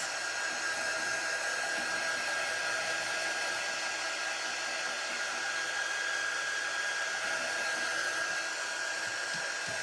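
Hair dryer blowing on a freshly painted rabbit artwork, a steady, even whine and rush of air held at constant loudness throughout, close by with no talking.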